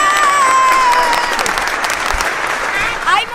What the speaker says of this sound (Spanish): ¡Un aplauso para estos chicos!